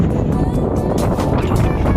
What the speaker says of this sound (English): It's windy as hell right now